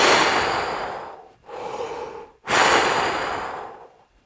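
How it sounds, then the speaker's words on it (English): Slow, deep breaths close to the mic: a long exhale, a shorter inhale, then another long airy exhale, with no speech. "You want to breathe in and out. In and out very easily."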